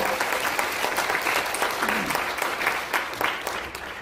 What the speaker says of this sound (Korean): 마지막 발제 큰 박수 부탁드리겠습니다.